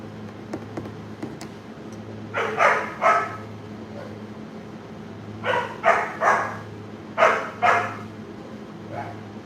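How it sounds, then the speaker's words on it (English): A dog barks in repeated bursts, a few close barks then a pause and another cluster, fairly loud over a low steady indoor hum. "I think this dog is hungry. That's why he's barking at me."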